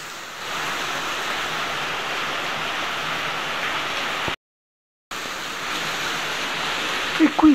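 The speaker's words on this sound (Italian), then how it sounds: "Vedete questa doppia cascata che si getta all'interno di questa grotta" A double waterfall pours into a cave at the Roman dam of Corcolle near Rome, making a steady, loud rushing roar that drops out abruptly for a moment before resuming.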